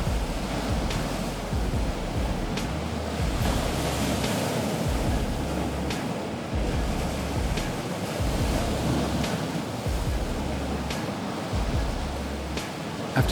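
Ocean waves surge and break continuously while wind buffets the microphone with a low rumble, out at sea where heavy green crab traps are dropped from a boat, steady and fairly loud throughout.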